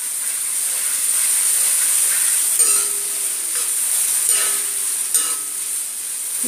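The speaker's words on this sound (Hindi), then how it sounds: "सिर्फ सीधा ओनियन को फ्राई करना है।" Onion fries on a full gas flame, a loud steady high hiss and sizzle with a few occasional scraping stirs, close and without talk.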